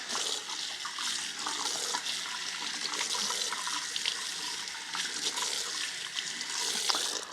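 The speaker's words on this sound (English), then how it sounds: "I'm going to take it over here to the sink and we'll rinse all the loose" Water runs steadily from a kitchen sink tap as loose salt is rinsed off the outside of food, a continuous splashing hiss with small fluctuations, fairly soft and close, with no talking.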